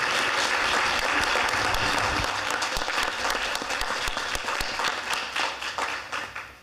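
A room of people at a school board meeting applauds the director, a dense burst of clapping that thins out into scattered individual claps as it tapers off over several seconds.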